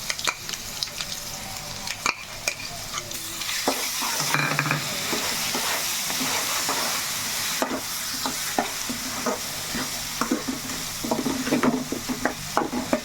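Tamarind garlic chutney fries in a pan with a continuous sizzle while a spoon stirs and scrapes against the metal, producing frequent clicks and knocks that grow busier toward the end; no one speaks.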